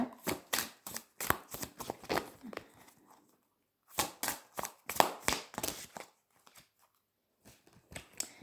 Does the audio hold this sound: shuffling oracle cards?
yes